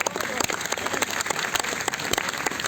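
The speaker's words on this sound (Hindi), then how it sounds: "एक बार सब दोस्तों के लिए भरपूर तालियां बजाएं" Close, lively applause from a mushaira poetry recital audience in Bahawalpur, with many hands clapping in a brisk, uneven patter and distinct sharp claps near the microphone.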